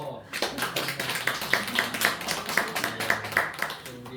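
A church congregation at a Sunday morning service claps to welcome visiting family and friends, a lively rhythmic patter of many hands with a voice faintly underneath.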